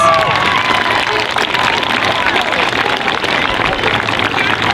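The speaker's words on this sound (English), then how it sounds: "Give her a big round of applause" Loud applause mixed with cheering and children's shouts as Miss Maines is invited up at a school gathering, a dense, continuous wash of clapping with excited voices throughout.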